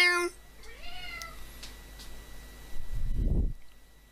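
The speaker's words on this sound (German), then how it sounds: "Mein Katze schreit im Hintergrund." A cat meows in the background, with a couple of drawn-out cries early on, then a brief rustle near the end, all fairly faint with no talking.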